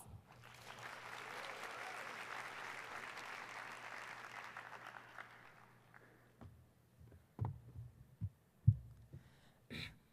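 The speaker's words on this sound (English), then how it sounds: "join me in giving him a round of applause" Applause from the audience in the UN General Assembly Hall, a broad wash of clapping that swells and then fades out after several seconds, leaving a quiet room with a few scattered knocks and shuffles.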